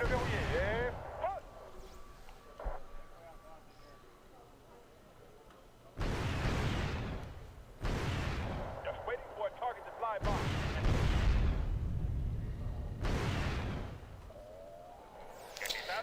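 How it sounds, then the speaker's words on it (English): Missile strikes and explosions in the war strategy game Wargame: Able Archer, several loud booming bursts in separate clusters with rumbling tails, set against quieter in-game background sound. "That was a well-aimed missile. It took out 3 of my anti-air vehicles."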